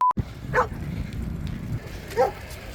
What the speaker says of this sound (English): we did get chased by dogs again